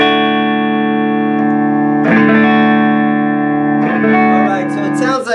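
A Hamer XT Series Scarab electric guitar rings through the clean channel of a 6505 amp, sustained strummed chords with heavy effects and reverb, restruck twice, loud and close with no talk.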